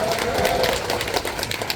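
A meeting audience applauds a city council member at a neighbourhood residents' general assembly in Myeonmok 2-dong, Seoul, a dense, steady wash of clapping that fills the moment without any voices.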